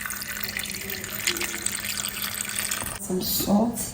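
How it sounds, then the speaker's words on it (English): Water poured over garden eggs in a pot while cooking a garden egg and cocoyam leaf stew, heard as a running, splashing flow with a louder gush near the end, with a voice talking over it. "go ahead and add some water"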